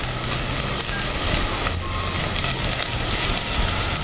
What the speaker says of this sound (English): One chili. I'm just going to slit it in half and fry it off.